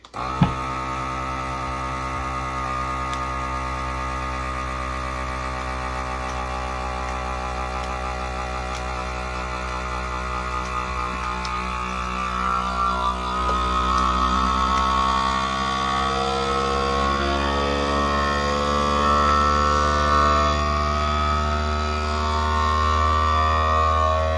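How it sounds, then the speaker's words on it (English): A vacuum sealer pumps air out of a bag of fresh corn kernels. Its motor gives a loud, continuous droning hum for over twenty seconds, and the pitch shifts partway through. No one speaks. "We'll close this up and press vac seal."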